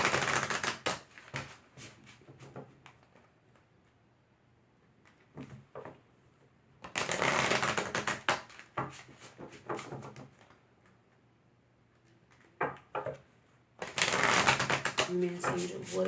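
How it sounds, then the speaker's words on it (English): Romance Angels oracle cards are shuffled and pulled in three loud flurries of riffling and slapping, separated by quieter stretches with occasional card handling; a person speaks in places. "Now I'm going to pull really quickly a Romance Angel card from the Romance Angels Oracle deck by Doreen Virtue."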